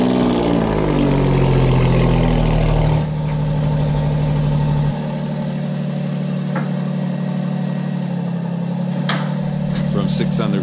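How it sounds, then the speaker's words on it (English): An Alfa Romeo Giulia, the car from 6 Underground, starts cold and settles into idle, its engine a loud steady hum that drops in pitch partway through as revs fall, with faint clicks near the end. "Cold start."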